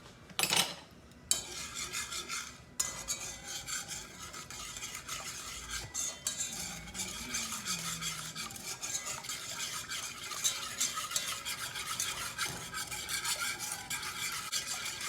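A whisk scrapes and stirs a butter and flour roux in a pan for a baked macaroni and cheese sauce, with rhythmic metallic clinks over a soft sizzle, close and continuous.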